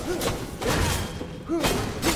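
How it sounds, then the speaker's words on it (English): Explosions go off in the video game Enshrouded: several dull thuds and bangs spaced through the clip, each fairly loud against a quieter game background, with a few brief tonal cues between them. "Stop with the explosions."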